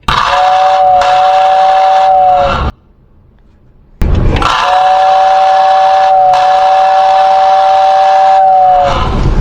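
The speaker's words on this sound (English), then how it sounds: "the sound of a classic Lionel air-powered whistle" A steady two-tone classic Lionel air-powered toy train whistle blows twice, each long blast held for a few seconds with a brief silent gap between them.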